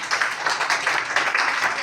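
A class of young children claps for a classmate in a schoolroom, a brisk, uneven patter of many small hands close by that runs steadily through the moment.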